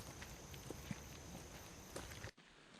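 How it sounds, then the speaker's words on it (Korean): Footsteps of a hiker climbing a mountain trail on Bongwhasan in Hongcheon, a few soft scuffing steps over a steady outdoor background before a sudden cut to quiet. "경쾌한 발걸음으로 산을 오르는 오늘의 주인공 김준혁 씨입니다"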